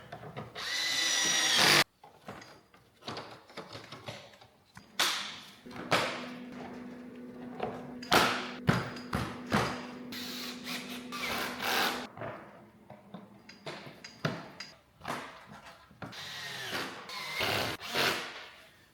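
A cordless drill driver with a clutch drives screws into plastic parts on an Audi TT project, buzzing in short repeated bursts with pauses between, close and fairly loud, with a steadier whirring run in the middle.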